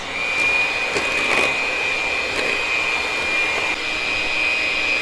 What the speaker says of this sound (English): You need 1 1/4 cup heavy cream and your hand mixer.